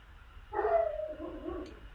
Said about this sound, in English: Maybe you can hear my dog, I don't know.